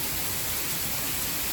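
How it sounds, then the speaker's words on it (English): Heavy rain downpour after a long drought, a dense, steady hiss of falling water that fills the whole clip at an even level, with no voices. "we're finally having a nice downpour."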